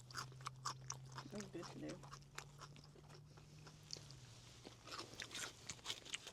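Crunchy bites into Korean fried chicken wings come as sharp, close crackling snaps scattered through the stretch, partly under casual talk.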